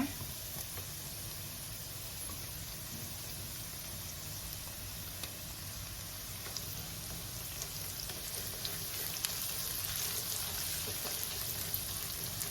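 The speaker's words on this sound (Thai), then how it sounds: "พอเราเจียวหอมของเราสุกเหลืองได้ที่ดีแล้ว จากนั้นให้เราใส่น้ำพริกเผาลงไปเลยนะคะ" Thai chili paste sizzles and fries steadily with golden fried shallots in a pan, being cooked as a pork floss filling for Thai dumplings; a dense, even hiss runs throughout with no talk.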